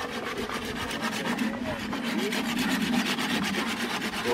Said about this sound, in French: la scie, elle coupe que dans un sens.